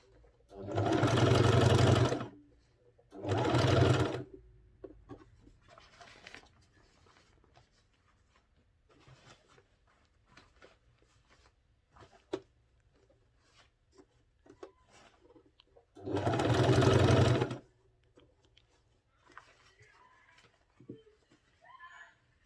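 A sewing machine stitches a men's senator wear garment in three loud whirring bursts, two close together at the start and one later, with quiet handling noises between them.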